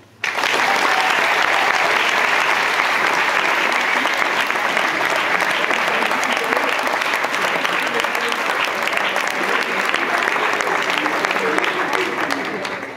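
A large crowd at a graduating students' proclamation applauds the parents, a loud, dense, sustained roar of clapping that bursts in at once and keeps going evenly for over twelve seconds, with voices mixed into the din.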